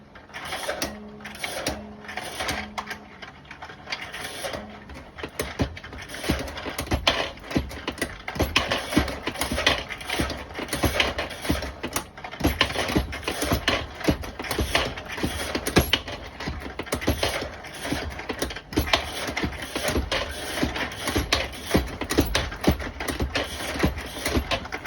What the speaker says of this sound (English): Lee APP press sizing bullets. My new 3D printed case feeder.